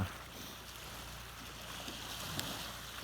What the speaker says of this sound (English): Here's our brook, one off.